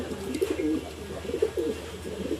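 Hungarian house pigeons coo softly in a repeated rhythm of low, rolling calls, close by against a quiet background.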